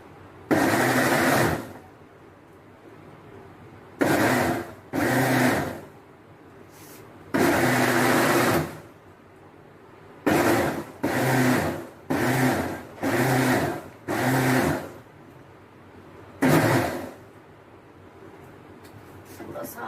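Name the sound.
mixer grinder blending apple and beetroot smoothie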